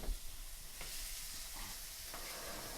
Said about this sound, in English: Now we're going to add the onions. That's the sound I want to hear. I want to hear that sizzle.